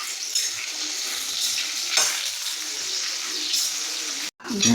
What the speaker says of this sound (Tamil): நம்ம எப்பயும் போல் சம்பாவத்தல் இதையும் எண்ணெயில் வதக்கிறோம்